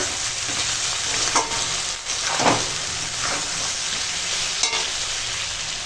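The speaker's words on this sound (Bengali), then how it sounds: "আর দেব লবণ দিয়ে একটু মশলাটার সঙ্গে কষিয়ে নিই" Curry being stir-fried with salt, chili powder and spices in a pan: a steady close sizzle with several scraping strokes of a spatula and occasional knocks against the pan, no talk.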